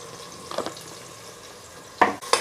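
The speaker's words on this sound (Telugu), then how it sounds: "చూస్తారు కదా ఆయిల్ వేడెక్కింది. ఉల్లిగడ్డలు వేసాం, కోసిన ఉల్లిగడ్డలు." Chopped onions sizzle in hot oil in a pot for goat head curry, a soft steady fry with a few brief louder stirring scrapes, close and without speech.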